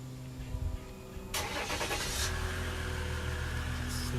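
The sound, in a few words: truck engine starting with dual exhaust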